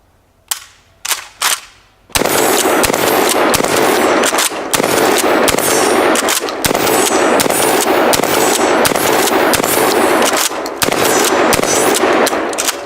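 A Kel-Tec KSG 25 pump shotgun fires, first a few sharp separate blasts, then a long run of loud, rapid shots close by with pump-action clatter between them.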